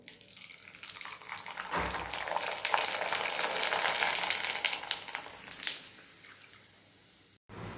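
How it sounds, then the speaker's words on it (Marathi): Cumin-flavoured papad deep frying in hot oil, a broad crackling sizzle that swells loudly through the middle and fades toward the end, with no talk. "इथे आता हे पापड तळून दाखवते."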